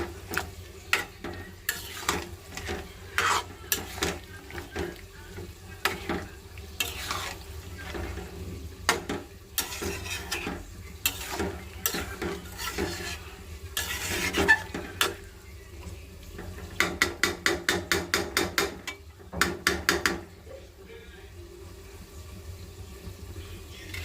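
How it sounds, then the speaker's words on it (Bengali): Food sautéing in a pan for a home lunch, with spoon scrapes and clinks against the pan over a faint sizzle, and a quick run of rapid taps near the end. "এটা এখন কষিয়ে নিব"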